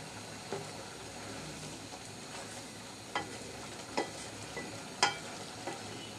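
Soaked dried red chillies go into a pan of Malabar spinach cooked with red lentils and potato, and a soft continuous sizzle follows, marked by a few brief sharp crackles and stirring clinks.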